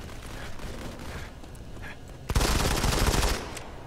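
Machine gun fire in the mobile shooter Modern Combat 5, a loud sustained burst lasting about a second after quieter game ambience, close and harsh.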